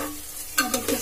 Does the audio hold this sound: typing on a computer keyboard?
no